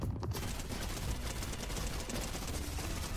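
Enemies in Fortnite fire dense, rapid gunfire that forms a continuous rattling barrage for the whole stretch, loud and unbroken.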